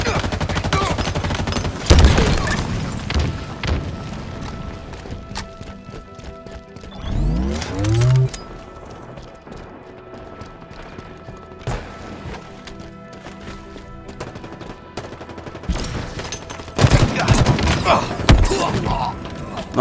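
A gun in Halo Infinite fires in a few separate loud bursts, one early, one in the middle and a longer cluster near the end, with quieter game noise and a sweeping tone between them.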